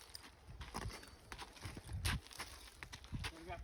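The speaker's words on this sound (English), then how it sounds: "I'm going to bring this horse over here real quick." A horse being led over on foot makes a handful of soft, uneven hoof thuds and clip-clops close by, with quiet handling noise between steps.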